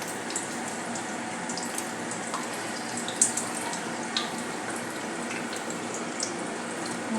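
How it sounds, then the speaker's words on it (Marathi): Potato snacks frying in hot oil over a low flame, a steady close hiss of bubbling with scattered small pops and crackles throughout, no talking. "एक साईड तळते तोपर्यंत आपण लो फ्लेमवर याला तळून घेऊया."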